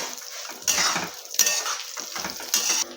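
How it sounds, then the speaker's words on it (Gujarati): A spoon clinks and scrapes against a pan in several short bursts as raisins and coconut chips are mixed into wheat lapsi, with quiet pauses between strokes. "ફરી આપણે એને મિક્સ કરી લઈશું"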